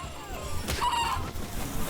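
A chicken-like creature in Palworld clucking close by, a short bright cluck over steady game background noise.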